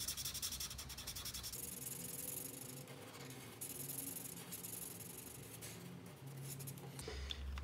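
A marker colours in a drawing on paper, giving a close, continuous scratchy rubbing of repeated short strokes that runs throughout at low volume.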